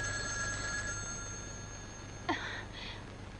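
A telephone's bell rings in a thin, steady trill against a quiet room, and a brief sharp rustle cuts in near the end.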